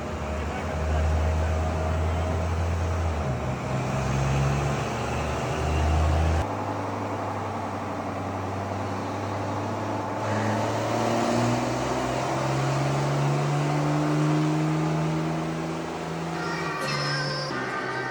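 A Cummins diesel swapped into a K5 Blazer runs at full throttle on a dyno at Industrial Injection, a loud, sustained low engine roar whose pitch climbs steadily through shifts, with a brief drop near the six-second mark.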